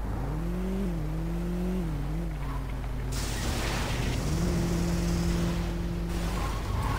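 Car in Saints Row 2 driving with a steady engine drone that rises in pitch twice as it revs, with mechanical rattling and a brief broadband rush mid-way; no voices.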